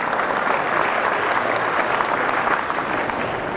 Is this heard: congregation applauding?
yes